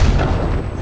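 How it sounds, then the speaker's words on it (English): C4 explosive detonating in Call of Duty Black Ops Cold War during a Search and Destroy match, a loud, dense low boom with rumbling blast noise that fills the whole short moment. "C4 going up."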